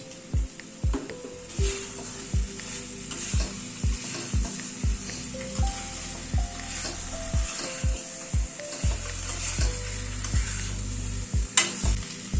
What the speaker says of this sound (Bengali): এবার আলুটা দিয়ে সব মশলার সাথে আলুটাকে এই মিনিট 2-3 মতো একটু কষিয়ে নেব।